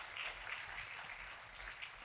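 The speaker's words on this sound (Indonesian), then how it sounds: "tepuk tangannya pula yang paling meriah buat Tuhan kita" A church congregation claps together in a steady, lively round of applause, a dense wash of many hands filling the room without pause.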